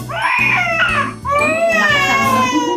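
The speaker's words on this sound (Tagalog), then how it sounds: "malakas pa yung iyak mo kaysa kay Ate mo" Baby wailing right after a vaccination shot: loud, close, continuous crying in two long breaths with a strained, tonal quality, and no other voices audible.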